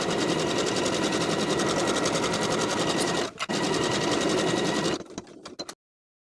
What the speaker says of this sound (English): Sew the waistband to the top of the skirt all the way around with a 3/8 inch seam allowance